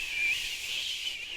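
Wind blows in through an open window, producing a steady, thin, high whistle that wavers slightly in pitch, heard alone and fairly faint throughout.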